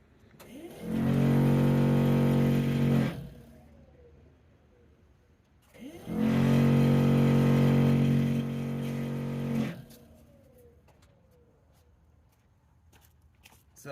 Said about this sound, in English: So blower fan works from that toggle switch.